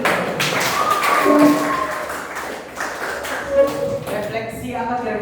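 A classroom of students claps hands together in a dense, fairly loud burst of overlapping claps, with voices talking over it and the clapping thinning out toward the end.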